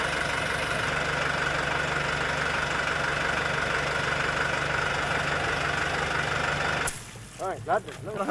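A tractor engine idles with a steady, dense rumble that cuts out near the end, leaving quieter background sounds and brief voices.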